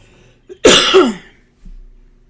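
A single loud, harsh cough burst, followed by a short rasping tail and a faint breathy sound afterward.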